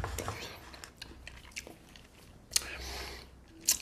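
Someone eats a McDonald's McFlurry Gula Melaka dessert. Soft chewing and mouth sounds come up close, with a few sharper crunchy bites near the end and brief murmurs in between.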